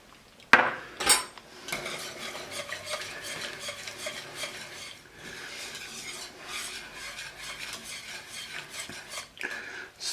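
A utensil stirs a cup of heavy cream into a pot of cream of asparagus soup. A sharp clank opens a run of irregular scraping and swishing strokes against the pot, close and fairly quiet.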